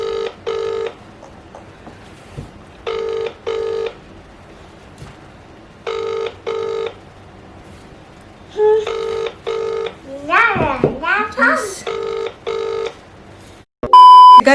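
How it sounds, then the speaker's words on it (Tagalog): Telephone ringback tones for a call to Western Union, repeating paired electronic rings at an even rhythm, with a voice talking over some of them before a short final tone. "Tatawagan ko pala yung lugar kung saan, Western Union ba?"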